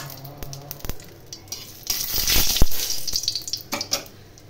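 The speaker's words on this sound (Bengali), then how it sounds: "প্রথমে আমি শুকনো লঙ্কা ভেজে নিলাম।" Dry red chillies fry in oil with a soft, uneven crackle that swells midway, over a few sharp knocks of a utensil against the pan.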